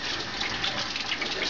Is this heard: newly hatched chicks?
no